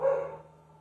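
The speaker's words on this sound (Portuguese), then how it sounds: "Os cachorros aqui resolveram dar seu depoimento." One dog bark, fairly faint and indoors at a home worship gathering, rings briefly and then fades into a quiet hum.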